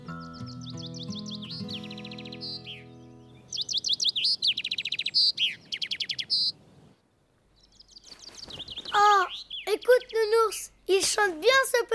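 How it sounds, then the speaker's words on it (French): Small cartoon bird chirps and tweets in quick bright bursts, alternating with stretches of soft background music and brief quiet gaps, the twittering clear and fairly close. "Petit oiseau."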